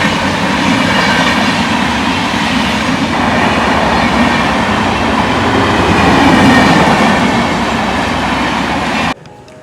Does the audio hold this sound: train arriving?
yes